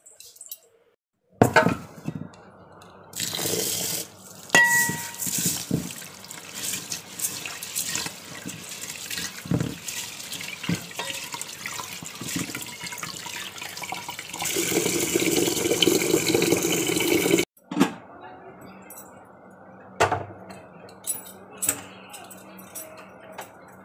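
Dishes being washed and scrubbed at a home kitchen sink, with tap water running in bursts, clattering pots and cutlery, and a long steady stretch of gushing water broken by pauses.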